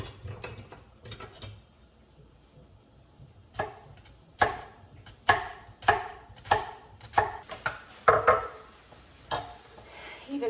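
A knife chops a large Walla Walla onion on a cutting board, starting with a few soft cuts and then settling into a steady series of sharp, close chopping knocks.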